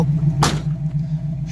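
A 1972 Chevy Nova SS door slams shut once, a single sharp thud standing out over a steady low engine idle.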